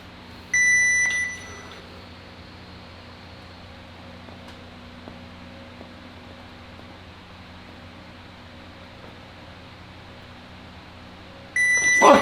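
Arm-wrestling training timer giving two short electronic beeps, one near the start and one at the end, separated by a long stretch of quiet room hum.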